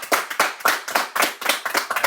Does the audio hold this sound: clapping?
yes